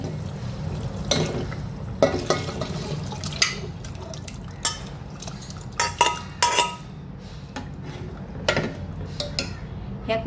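Cooked mutton being stirred into masala in a pot, with repeated metallic scrapes and clinks of a spoon against the vessel and soft wet mixing sounds, close and intermittent, with occasional faint talk.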